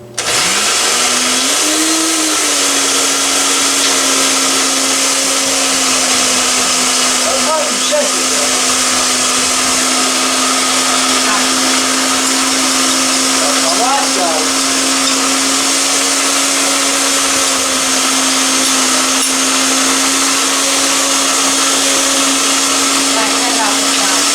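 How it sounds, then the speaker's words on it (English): A kitchen blender whirs steadily and loudly for the whole stretch, its motor spinning up in the first seconds and then holding an even pitch, with faint voices in the background. "I kind of figured a blender would do the same thing"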